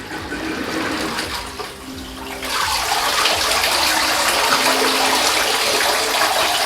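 Water flowing and gushing steadily in a pool as an Aiper cordless robot pool vacuum pushes it to either side, quieter at first then a louder continuous rush from midway on, with no talking.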